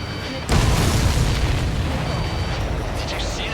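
An explosion in the video game Ace Combat 7: Skies Unknown, heard as a sudden heavy boom that settles into a sustained, loud rumbling roar lasting several seconds.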